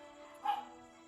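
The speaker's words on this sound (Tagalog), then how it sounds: "Maingay ang aso." A dog lets out one short bark in the distance, faint and brief, during a nighttime telescope viewing of the moon; otherwise quiet with a steady hum.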